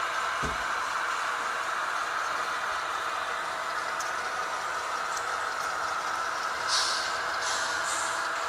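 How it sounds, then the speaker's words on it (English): Air brakes on a small tour railway train hiss steadily as it comes to a stop, a continuous broad airy rush that holds for several seconds with a few faint squeaks near the end. "our train will come to a stop here at Mad"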